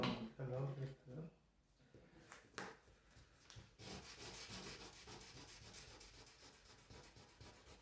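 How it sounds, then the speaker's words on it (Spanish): Rough scraping strokes of sandpaper on wood, repeated by hand in one direction, with a voice speaking faintly over the start. "vamos a lijar la otra"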